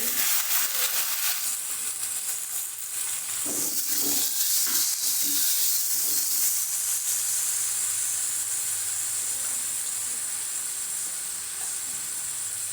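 Tomatoes tipped into onions frying in oil in a pan for a methi bhaji give a steady loud sizzle, with a brief cluster of sharper crackles and stirring as they land.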